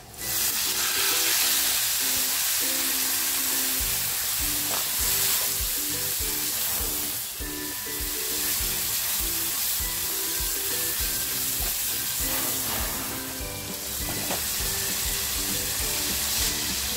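Marinated mandeli fish frying in oil with garlic and red masala, a loud, continuous sizzle and hiss with stirring and occasional utensil clinks, plus faint tonal music in the background.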